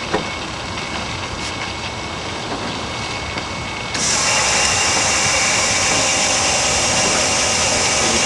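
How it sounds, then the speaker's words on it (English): A car's pump switches on about halfway through and keeps running while it builds to 40 psi. It adds a loud, steady, broadband whirring hum over a quieter background rumble. "As you can see, the pump turns itself on."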